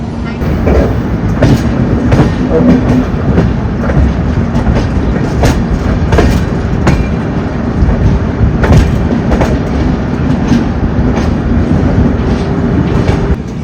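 A passenger train travels between Somnath and Mumbai, heard from inside as a loud, steady rumble with rhythmic clickety-clack of the wheels over rail joints, repeating throughout.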